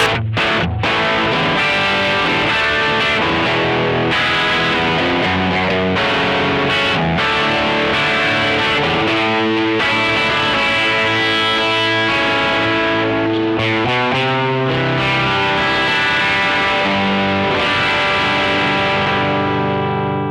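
An electric guitar plays chords and riffs through a Boss OD-200 drive pedal set to a mid-gain, heavier tone, loud and continuous with thick distortion and sustained notes.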